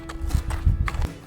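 A horse being led on foot clip-clops steadily nearby, with several distinct hoof strikes in an uneven walking rhythm.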